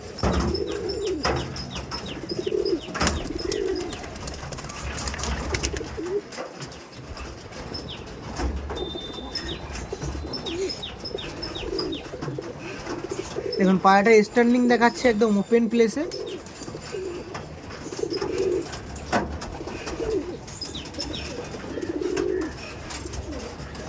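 Tournament-flown chhapka racing pigeons coo in soft, repeated bursts, with a fuller cluster of calls midway, beneath someone talking throughout and occasional wing flutters.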